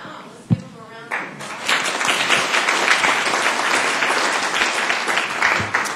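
A crowd at a city council meeting bursts into sustained applause after a couple of sharp claps, loud, dense clapping that holds steady to the end.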